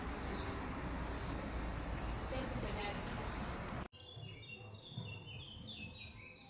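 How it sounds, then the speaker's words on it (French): Birds chirp and tweet outdoors on a hot Sunday in San Sebastián, faint calls scattered over a dense steady rumble of wind or traffic that cuts out briefly before quieter background with clearer chirps returns. "Vous entendez les bruits des oiseaux"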